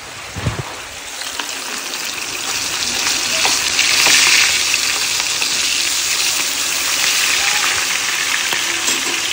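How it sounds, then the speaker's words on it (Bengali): Hilsa fish fries in a pan with a dense, steady sizzle that builds slightly and holds for several seconds, while heavy rain falls outside. "এই যে মাছ তৈরি নিচ্ছি, এখানে ইলিশ মাছ ভাজা"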